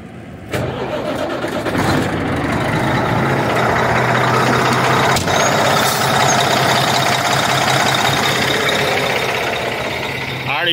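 A Cummins ISX 870 diesel truck engine cranks briefly, catches and settles into a loud, steady running rumble that continues throughout.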